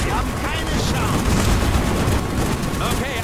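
Rapid gunfire in the video game Call of Duty: Black Ops, a dense fusillade of automatic shots and booming impacts rattling continuously at close range, with a voice talking over parts of it.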